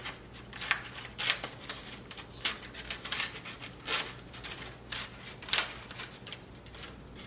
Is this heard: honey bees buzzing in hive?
no